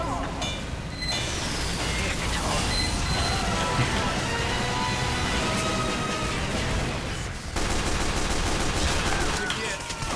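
Gunfire in Team Fortress 2 with pistols among the weapons, dense rapid volleys of shots and crashes in a chaotic fight, loud and continuous with a short lull near the end, with voices mixed into the din.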